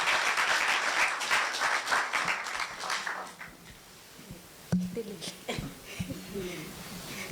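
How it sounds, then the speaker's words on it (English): Audience applause welcoming a speaker to a podium, a dense burst of clapping that thins out and fades, followed by scattered claps, breathing and a voice close by. "Please welcome her with a round of applause to the podium."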